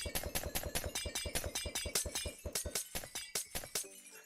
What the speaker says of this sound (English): why pass an opportunity to rain glass bottles on my head?